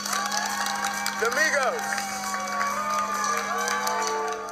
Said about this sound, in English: Please stop clapping your hands now.